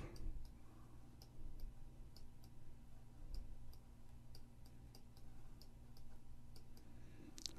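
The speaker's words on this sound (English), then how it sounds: "Just clicking over and over." A computer mouse clicks over and over during photo editing, crisp faint ticks spaced in a loose steady rhythm over a low hum, with no talking.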